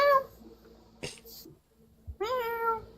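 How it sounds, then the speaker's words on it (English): A cat meows twice nearby, a short call and then a longer drawn-out one, with small rustles in between and no talking. "Oh, hi, Kitty."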